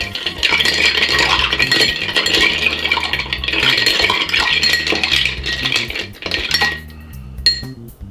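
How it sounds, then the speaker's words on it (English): Ice cubes clink and rattle continuously as a spoon stirs a Tequila Sunset cocktail in a glass, a busy close metallic-glassy jangle that slows and thins out near the end. "And we're going to give that a stir."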